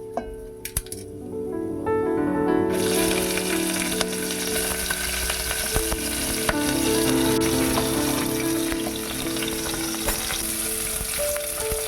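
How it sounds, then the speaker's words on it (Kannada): Chana dal, urad dal and green chillies fry in a few spoons of hot oil, a loud, continuous sizzle with stirring and clinks, heard close up while tonal background music plays throughout. "ಒಂದು ಪಾತ್ರೆಗೆ 2ರಿಂದ 3 ಸ್ಪೂನ್ ಎಣ್ಣೆ ಹಾಕ್ಕೊಂಡು ಅದಕ್ಕೆ ಕಡಲೆಬೇಳೆ ಮತ್ತು ಉದ್ದಿನಬೇಳೆ ಹಾಕೋತಾ ಇದ್ದೀನಿ"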